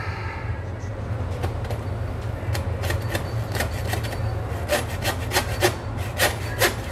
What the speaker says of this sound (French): Et on va y aller à la scie.